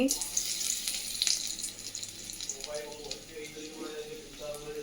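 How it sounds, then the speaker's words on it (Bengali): Potatoes frying in oil in a home kitchen, a steady soft sizzle running throughout with water-like hiss, moderately close, while a person talks over it. "আলুটা ভেজে নিচ্ছি"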